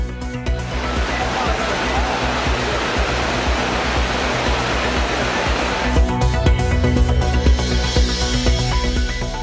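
The flooded main waterfall at Courtallam thunders in a loud, constant roar of heavy falling water, with tonal, voice-like sounds layered over the torrent.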